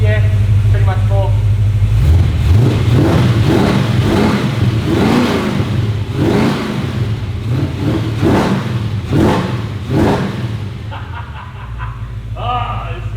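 A Holden VK's engine revs repeatedly, with rising and falling blips in a regular rhythm over a low idle. People talk near the car throughout.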